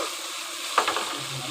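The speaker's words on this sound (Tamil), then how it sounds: "காரத்தையும் போட்டு நல்லா வதக்கி விட்டுங்க." Okra with chili powder being sautéed in a pan for okra rice, a steady soft sizzle with a few brief scraping stirs in the middle, close and fairly quiet, with no talking.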